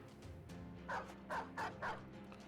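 A dog being attacked in the video game Battle Brothers gives four quick, faint yelps in a short burst over a low background hum.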